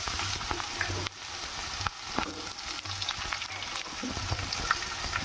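Onion frying in a pan on a gas stove over a low flame, a constant hissing sizzle close by, with occasional scraping and tapping of a spoon stirring, no talk.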